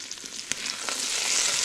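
Eggs get stirred in a hot pan, first a soft scrape and a sharp tap, then a frying sizzle that builds and holds steady near the pan.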